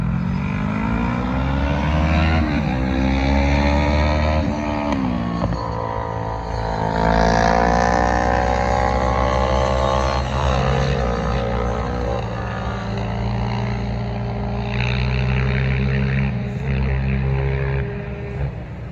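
Aging electric motor of a Techone Popwing RC plane droning steadily in flight, its whine rising and falling in pitch as throttle shifts, loud and continuous throughout with no talk.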